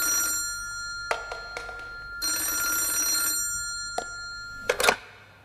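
A telephone bell rings during a live escape-room puzzle game in a Häagen-Dazs house, sounding as several repeated ring bursts with short silent gaps, clear and close with no talk.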